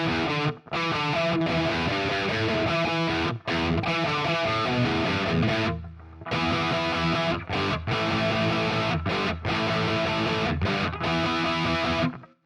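Distorted electric guitar playing a riff through a Quad Cortex with room reverb, loud choppy chords separated by short rhythmic gaps.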